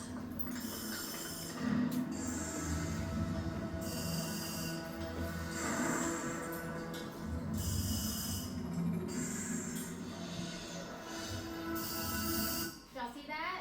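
A fired heater furnace huffing as it starves for oxygen, producing rhythmic rough breathing-like surges of roaring noise throughout, with a person talking over it.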